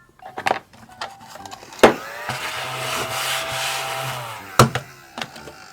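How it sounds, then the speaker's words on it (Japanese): Back of a knife scraping burnt resin off a doll head, a sustained gritty rasp for a few seconds with sharper knocks and scrapes at the start and end, close up and fairly loud. "このナイフのね、この背中とかでガリガリガリって削って 取ってあげましょう"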